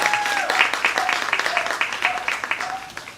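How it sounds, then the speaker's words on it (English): Audience applause at the White Sunset 2025 launch event, a steady patter of clapping with a few whistles or cheers threaded through, moderately loud and continuous for a few seconds. "Give White Sunset a round of applause,"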